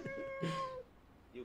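A person imitates a cat, giving a short nasal meow followed by a brief second meow-like sound, close and clear.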